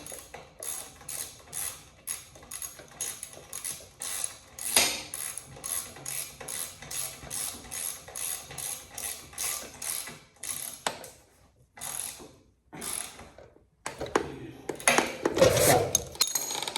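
Repeated ratchet clicking from a hand ratchet tightening a nut on a Yamaha Blaster during a rebuild, bursts of quick close clicks in steady rhythm with short pauses and a clunk near the end.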